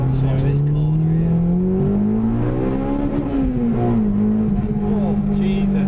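A Honda Integra Type R DC2 with its VTEC engine pulls hard in gear, a loud, sustained engine note that holds and shifts pitch as it accelerates, heard from inside the car.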